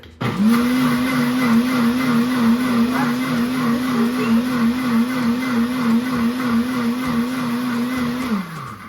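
A kitchen blender runs continuously while blending creamy balsamic vinaigrette, a loud, steady motor whine holding a constant pitch for several seconds before cutting off abruptly.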